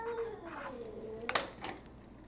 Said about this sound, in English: Do not mind my evil cat in the background.